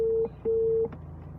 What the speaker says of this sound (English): you can hear Ebo's number is ringing.